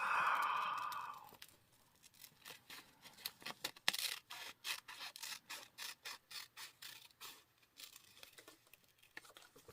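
Scissors snip through paper at a crafting table, a long rustle of handling first, then a steady run of short, crisp cuts in an uneven rhythm, close and fairly quiet.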